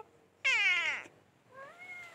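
A cat in a village gives a loud, clear meow, then a softer, shorter second meow follows after a brief pause, close by in a quiet setting.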